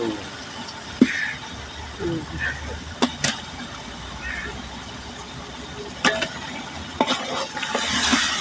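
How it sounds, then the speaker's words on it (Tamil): A large pot of five-kilo chicken biryani masala with coriander and mint is stirred, giving a low sizzle with periodic sharp ladle knocks and scrapes against the metal, while people talk. "அஞ்சு கிலோ சிக்கன் பிரியாணி கலக்குங்க கலக்குங்க நல்லா கலக்குங்க மசாலாலாம் கறியில் ஏற"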